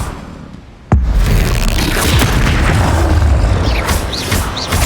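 The Expelliarmus spell is cast in Hogwarts Legacy, bursting out as a sudden loud booming blast after a quiet moment, then trailing into a dense, rumbling wash of magical crackle.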